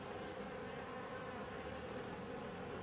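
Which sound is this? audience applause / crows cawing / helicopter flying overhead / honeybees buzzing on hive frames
honeybees buzzing on hive frames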